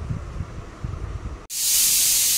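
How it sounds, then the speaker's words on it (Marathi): Low kitchen rumbling gives way abruptly to a pressure cooker on the stove releasing a loud, sustained hiss of steam, heard up close. "कुकर चालू आहे।"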